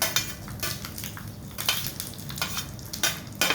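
Urad dal and dried red chillies frying in a pan, a crackling sizzle broken by repeated sharp scrapes and metal clinks of a spoon stirring, close and fairly busy with no voices.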